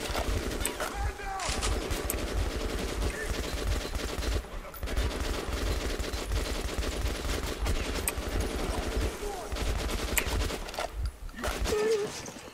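Video-game gunfire fills the clip with dense, continuous bursts of automatic shooting aimed at the player, steady and loud throughout with only brief gaps, while a voice talks over it.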